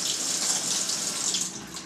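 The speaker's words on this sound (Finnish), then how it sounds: "Laittaa vähän kylmää vettä päälle tälleen." Cold water runs steadily from a kitchen tap over a freshly boiled egg, a close, continuous hiss and splash with no talking.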